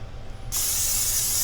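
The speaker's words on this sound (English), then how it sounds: "Now we're going to take this Pam. We'll spray this" Pam cooking spray is released in one sudden, continuous hiss, close and loud, as it coats tuna cakes over a sink, starting after a brief quiet moment.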